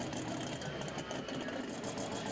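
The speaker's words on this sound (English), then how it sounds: "next up is Ron Mitchell on his rare Alice Chalmers 180 tractor" Rare Allis-Chalmers 180 tractor engine at a tractor pull, a steady, dense mechanical drone with a fast, even pulsing, loud and close with no talking.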